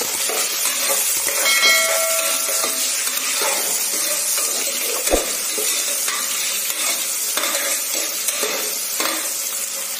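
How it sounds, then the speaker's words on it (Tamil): Onions frying in a pan for tomato biryani, a steady broadband sizzle with occasional stirring scrapes and a brief metallic clink, continuous and fairly close, no voices. "இப்போ நம்ம நல்லா பொன்னிறமா வறுத்துட்டு வாங்க"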